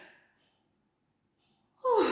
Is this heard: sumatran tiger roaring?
no